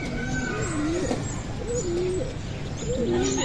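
Pigeons in a loft give repeated soft, rolling coos close by, several birds overlapping over a steady low background hum, with faint chirps mixed in.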